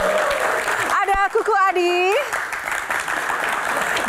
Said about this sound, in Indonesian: Kali ini kita berikan tepuk tangan yang paling meriah